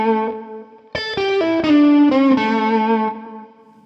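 A blues lick on electric guitar with distortion and a chorus-like effect includes a fast slide from the flat 5 down to the 4th; single sustained notes ring loud and close, then fade.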